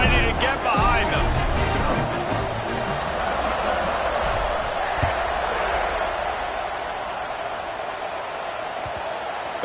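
Stadium crowd noise at a college football kickoff in the NCAA 26 video game, Arkansas vs Washington, a steady loud roar filling the full length with broad wash and a few swells of cheering.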